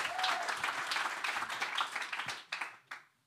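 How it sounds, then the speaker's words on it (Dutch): An audience applauding a speaker at a talk, warm sustained clapping that thins into a few last scattered claps and then stops. "Dus geef hem een heel erg warm applaus."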